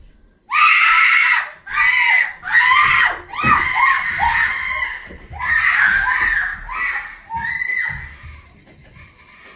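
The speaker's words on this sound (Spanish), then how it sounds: "Gritando." Several people scream loudly during a behind-the-scenes horror series shoot inside a haunted-house set, a run of shrill, overlapping shrieks in repeated bursts, close and dominant.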